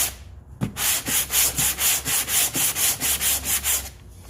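Bondo body filler being block sanded on a dented car panel, a regular back-and-forth rasp of about fourteen even strokes, close and fairly loud, heard alone.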